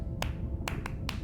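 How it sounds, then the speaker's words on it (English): Sperm whale coda clicks from the Beyond Blue video game: four crisp, evenly loud clicks in a short rhythmic burst over a constant low underwater rumble. "Sperm whales make clicks in sort of rhythmic patterns that we call codas."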